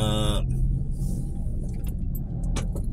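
Heavy traffic crawling on the Santolan flyover, heard as a steady, close low road rumble of idling and creeping vehicles, with a brief tonal, horn-like sound at the very start.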